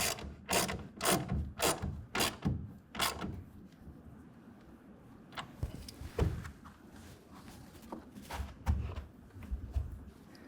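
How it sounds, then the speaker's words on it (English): A ratchet tightens a clamp on a folding hard tonneau cover on a 2024 GM pickup. A few loud, close clicks come first, then quieter ratcheting and clunks. "we're going to go ahead and tighten that down with a 1/2 inch wrench or ratchet"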